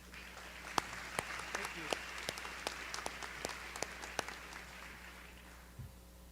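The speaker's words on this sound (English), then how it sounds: "A round of applause for our school board members." An audience at a school graduation ceremony applauds the board members: sparse, evenly spaced individual claps ring out in a large room over a low murmur, fading toward the end.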